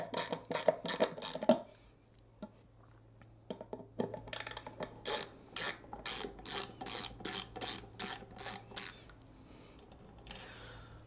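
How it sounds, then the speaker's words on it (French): A Phillips screwdriver unscrews a collimation screw on a Schmidt-Cassegrain telescope, giving bursts of sharp ratcheting clicks: a quick cluster, a pause, then a long regular series of clicks, close but fairly quiet. "Avec votre tournevis cruciforme, vous dévissez."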